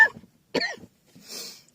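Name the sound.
cough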